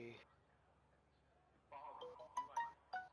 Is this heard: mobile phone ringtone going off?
yes